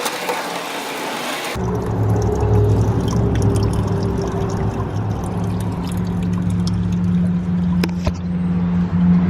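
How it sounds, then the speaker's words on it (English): Fresh water drains from an RV tank into a container, a steady rushing pour running continuously beneath a low hum, close and fairly loud. "this right up here is used for draining what's left of the fresh water in the tank"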